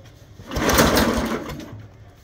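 A motorized cassava mill pulls to a start with a short rising mechanical rattle and whir that peaks and fades over about two seconds, heard close.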